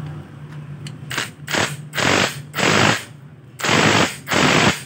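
An impact wrench tightens the clutch housing bolts on a Bajaj NS150/NS160 FI or LS135 motorcycle, firing five loud, close rattling bursts of about half a second each with short pauses between them.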